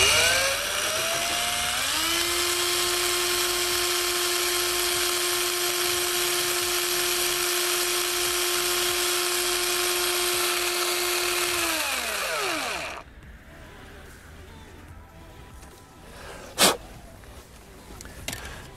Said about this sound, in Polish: cieniutkie wiertełko i jedziemy z koksem